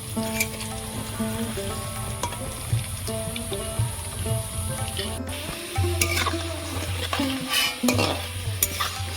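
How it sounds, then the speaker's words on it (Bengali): Soybean dumplings frying in hot oil in a pan give a loud close sizzle, with scraping and clinking from stirring and a low background hum, and no talk. "পিঠাগুলো ভাজা হয়ে গেছে তুলে নেব"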